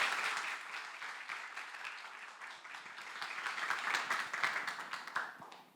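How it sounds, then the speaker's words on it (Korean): A church congregation claps together to welcome a visiting professor before a Sunday sermon, a dense, steady round of applause that swells slightly in the middle and then fades. "우리 교수님을 박수로 환영하면 좋겠습니다."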